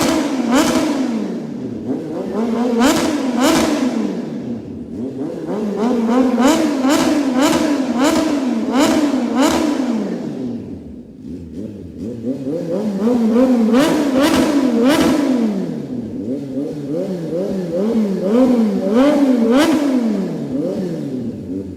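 A Kawasaki Z H2 fitted with a Drift Xaust exhaust revs repeatedly and loudly, its pitch climbing and falling in surging waves with crackling bursts, sustained and close throughout.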